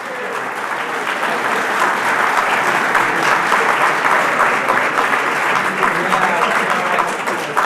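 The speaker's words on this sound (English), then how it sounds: "please give our honorees and our special guests a round of applause" A large audience at a college honors ceremony gives a loud, sustained round of applause for honorees and special guests, a thick steady roar of clapping filling the hall with scattered crowd noise mixed in.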